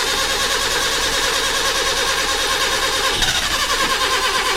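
A Suzuki engine, newly fitted with a different HT lead and a sanded spark plug, runs steadily and loudly up close with a dense, continuous mechanical roar and a slight bump near the end.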